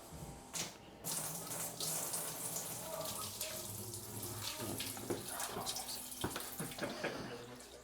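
Water poured by the cupful into household drains and toilets during a property preservation job, a steady close splashing and gurgling that runs nearly unbroken, with brief louder surges and no talk.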